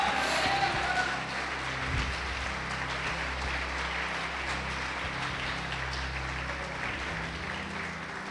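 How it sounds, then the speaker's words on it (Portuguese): A church congregation claps during a Lord's Supper service, a broad continuous wash of applause that holds steady and gradually thins, with faint crowd murmur beneath. "Quem está comigo pode aplaudir o Senhor Jesus e glorificá-lo."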